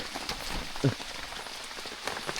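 Heavy rain pours steadily onto a bamboo hut in a continuous dense patter, with one brief louder knock partway through and no voices.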